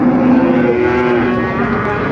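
A cow gives a long, low moo up close at a cattle market in Pati, with faint background bustle beneath it.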